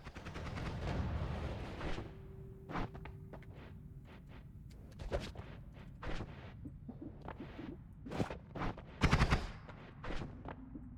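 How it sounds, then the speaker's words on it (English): Explosions and gunfire in a video game crackle close and loud in rapid irregular bursts, with sharp booms spaced through and no talk over them. "Why are those exploding now?"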